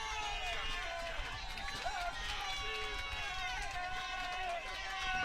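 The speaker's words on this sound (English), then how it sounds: "The Rustler crowd making some noise." A Rustlers home crowd at a Golden West college football game makes a steady babble of noise and cheering, with a voice talking over the crowd throughout.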